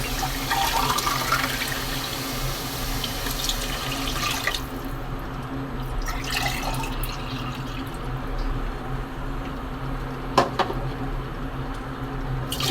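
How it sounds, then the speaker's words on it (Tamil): Two glasses of water poured into a cooker while making mint rice, a steady close splashing flow running the whole length with no talk, easing off partway through. "ரெண்டு கிளாஸ் தண்ணி ஊற்றியாச்சு."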